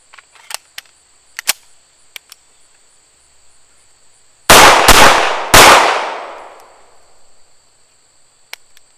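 CZ75 pistol fired outdoors with the first shot double action and the next single action, three sharp loud reports in quick succession with ringing decay, after faint clicks and insect chirps.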